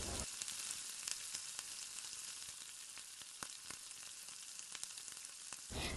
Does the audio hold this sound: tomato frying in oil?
yes